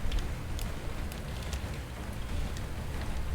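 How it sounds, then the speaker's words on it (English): Steady rain falls outdoors in a full downpour, a dense continuous hiss with scattered brighter drop hits spread throughout and no voices. "We got full on rain."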